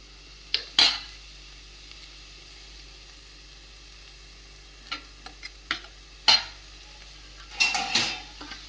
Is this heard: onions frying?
yes